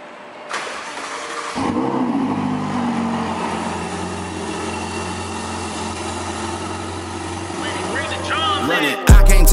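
A Ferrari 488 Spider's engine cranks and fires up, then settles into a loud, steady idle with a low, throaty rumble, close by. A sharp rev flares at the very end.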